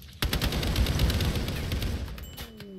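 Rapid automatic gunfire from a RimWorld battle rattles in a dense, loud fusillade of overlapping shots, continuous for a couple of seconds with a few higher whizzing tones near the end.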